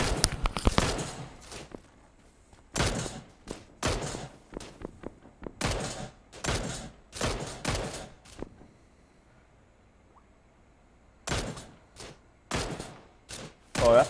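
Gunfire in the battle-royale game PUBG: repeated bursts of automatic fire and single shots, loud and close, in clusters separated by quiet gaps, with a few footstep-like thuds in between.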